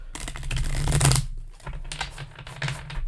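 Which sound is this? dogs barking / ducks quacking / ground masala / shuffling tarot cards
shuffling tarot cards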